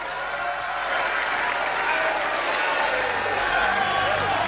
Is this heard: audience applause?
yes